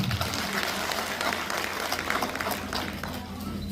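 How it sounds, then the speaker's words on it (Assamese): An audience claps together at a political felicitation event for newly elected representatives, a dense steady burst of applause lasting a few seconds, loud and close with crowd noise mixed in. "আৰু লগতে আপোনালোকৰ নিজৰ কাৰণে চবেই এটা হাত চাপৰি বজাই দিব।"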